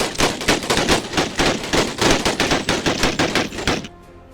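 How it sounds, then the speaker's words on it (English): Gatling guns fire in rapid, steady bursts across a U.S. Cavalry versus Plains Indians battle in a video game, a dense, loud rattle of repeated shots that stops abruptly near the end. "Gatling guns are firing at a considerable range."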